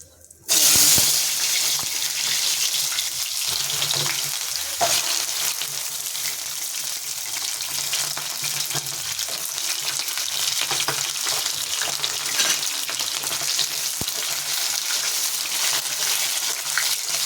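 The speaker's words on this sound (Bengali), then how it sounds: "গোটা জিরেটা ভালো করে ভাজা হচ্ছে" Steady, loud sizzling of cumin seeds and taro frying in hot oil, continuous throughout with occasional clinks of stirring.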